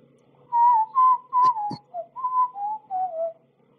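A person whistles a short melodic phrase of about eight clear notes in an uneven rhythm, close and alone, with a brief click partway through.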